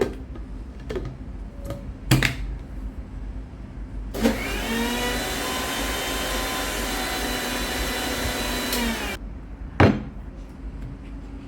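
A kitchen blender whirs steadily for about five seconds, blending passion fruit pulp with ice water and a pinch of salt, framed by a few sharp clunks and knocks of the jar before and after.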